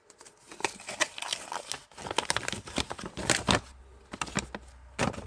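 Close, busy crinkling and rustling of a paper leaflet pulled from a Lego Series 12 minifigure blind bag, with irregular sharp crackles throughout and no voices.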